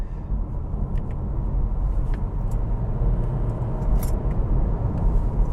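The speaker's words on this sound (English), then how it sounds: "Let's downshift one more time." A 2023 Acura Integra A-Spec engine during a test drive, a steady low rumbling drone heard from inside the cabin, loud and continuous without talk.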